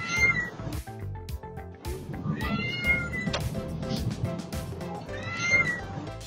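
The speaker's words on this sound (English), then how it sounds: "and of course, the loud meow." A cat meows loudly and repeatedly, drawn-out cries over a background of music.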